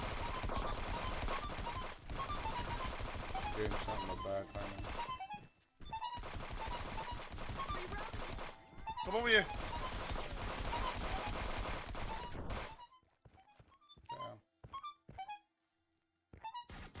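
Video game gunfire comes in several rapid bursts separated by short silent gaps, fairly quiet overall, thinning to scattered single shots toward the end.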